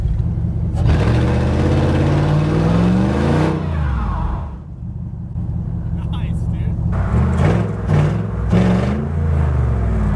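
Custom-built Toyota Hilux engine revving loudly on a test drive, a deep rumbling roar rising and falling through several surges, close and dominant, with people talking briefly over it.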